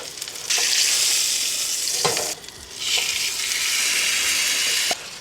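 Steak sizzling loudly in a pan at a truck campsite in Bryce Canyon just after being flipped, a bright, steady frying hiss in two long stretches broken by a brief dip and soft clanks of the pan, with no talk.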